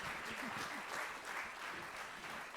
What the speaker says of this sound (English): I'd love a really big round of applause for our guests this evening